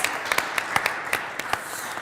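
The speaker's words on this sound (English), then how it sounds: "I think they deserve a round of applause." Scattered applause from a conference audience after a panel discussion on cybersecurity, a few distinct claps rather than a full ovation, close and sparse over about two seconds.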